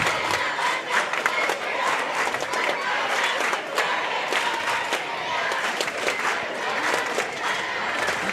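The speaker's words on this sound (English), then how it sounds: "This crowd's really getting into it here." A basketball crowd in a school gym roars and cheers continuously, with scattered clapping and shouts forming a dense, steady wall of noise throughout.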